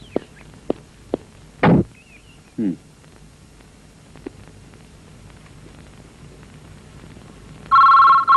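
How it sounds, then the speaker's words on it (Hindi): A telephone rings in a scene from a Hindi-dubbed South Indian romantic film, a short electronic ring arriving near the end after a few scattered knocks and thuds in a quiet room. "क्यों मीना, किसका फोन था?"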